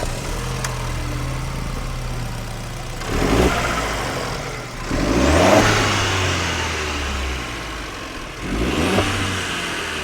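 A Jeep Compass engine revving in bursts, three rising surges over a steady idle, close and loud with no talk.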